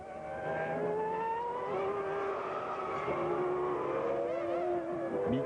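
Formula 1 cars racing at the 2000 Italian Grand Prix, several high-pitched engine wails rising and falling as cars pass at a distance, layered over a steady broadcast backdrop with no voices.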